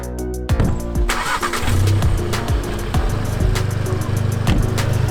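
A Volkswagen MK7 GTI with a modified exhaust starts up and drives off, its engine catching after a brief pause and then droning and revving steadily and loudly up close.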